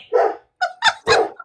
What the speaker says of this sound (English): When my dogs get done barking,